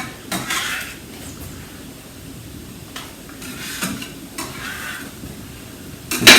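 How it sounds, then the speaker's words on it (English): Chopped onions dropped into a pan for a sweet potato curry, with soft sizzling, utensil scrapes and stirring clatter in a quiet kitchen, ending in a louder clank. "In with the onions. Gonna let them cook now."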